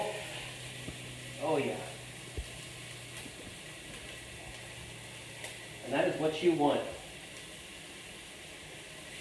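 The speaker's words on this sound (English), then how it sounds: "You want that sizzle." White onion and half a stick of butter sizzling in a pan, with two short bursts of hissing crackle near the mic between stretches of quieter background and a person talking.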